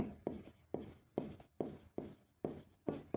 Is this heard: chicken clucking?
no